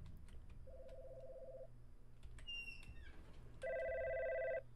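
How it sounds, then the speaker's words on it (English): An electronic telephone ring in a video game sounds in two bursts, a single steady tone first and then a louder, richer ring, over a low ambient hum. "There's a phone ringing."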